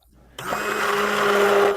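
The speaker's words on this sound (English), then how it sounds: "I'm only putting the immersion blender in a little bit, because the rest will be done by the blender itself." An immersion blender switches on abruptly and whirs steadily at close range, pureeing garlic soup in a non-stick pot with a constant high motor whine.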